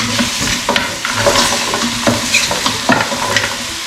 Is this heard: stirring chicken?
yes